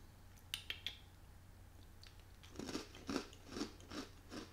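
Several crisp crunching bites into a crunchy, lightly sweet snack, a few quick sharp snaps followed by a rhythmic series of close chewing crunches.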